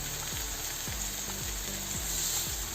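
A small splash of water hits a hot pan while cooking homemade tacos with gorgonzola cheese sauce, giving a steady close sizzle with faint scraping knocks under it and no talking.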